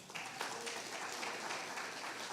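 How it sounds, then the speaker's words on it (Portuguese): A church congregation applauding during a sermon, a soft, steady patter of many hands clapping at a distance. "Aplauda essa palavra."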